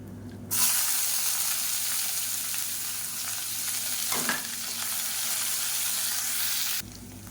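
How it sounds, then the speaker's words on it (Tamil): Sliced onions sautéing in a pan with dried red chillies and curry leaves for raw mango rasam: a loud, even, close sizzle that starts abruptly, holds steady for several seconds, then cuts off. "இப்போ வெங்காயம் நல்லா வதங்கிடுச்சு ரொம்ப சவக்க வதக்கணும்னு அவசியம் இல்லை"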